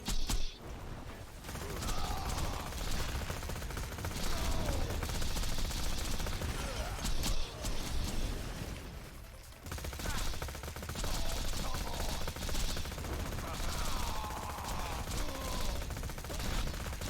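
Rapid gunfire in a Minecraft modpack boss fight, dense bursts of shots with mechanical clanking and creaking game effects, loud and continuous with only a brief dip near the middle.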